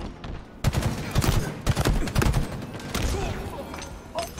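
A grenade blast in the Halo Infinite video game during a ranked match, a loud burst of gunfire-like crackle and impacts in rapid volleys, close and dense, with voices of players talking over the action.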